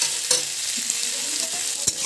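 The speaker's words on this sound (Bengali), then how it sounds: "তারপরে আলুটাকে আমি ভালো করে ভেজে নিই" Potatoes fry in oil in a pan with a loud continuous sizzle, while a spatula scrapes and stirs them, giving a couple of sharper clinks against the pan.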